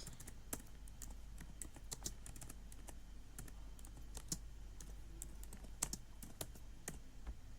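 Fingers type a command on a computer keyboard, giving quiet, close, irregular key clicks with short pauses between bursts over a faint room hum, with no speech.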